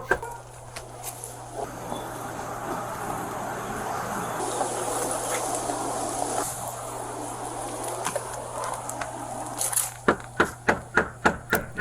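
After a long stretch of steady ambient hum, a rapid series of about eight sharp, loud knocks on a door rings out close by, evenly spaced.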